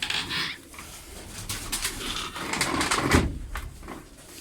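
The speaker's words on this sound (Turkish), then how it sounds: "Kuşlar, kuşların hepsini, hepsini karnı aç." Pigeons in a coop make soft cooing calls and flutter about amid scattered knocks and rustling, with a moderately quiet, busy texture throughout.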